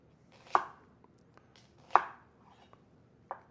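A knife chops through the other half of an onion on a cutting board, three sharp, close thuds spaced about a second and a half apart, with faint taps between.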